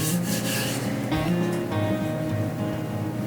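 A rolling pin presses homemade wheat cracker dough made with fresh milled flour out to about a sixteenth of an inch, giving a steady, close rubbing and rasping that runs unbroken throughout with no talk.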